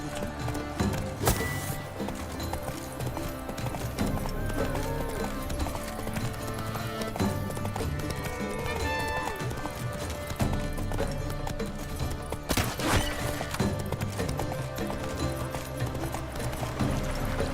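Geralt's horse Roach galloping in The Witcher 3, steady rhythmic hoofbeats throughout, fairly close and continuous, with occasional louder thumps and a few quiet voices in the background.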